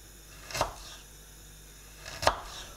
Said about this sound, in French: on va découper le gingembre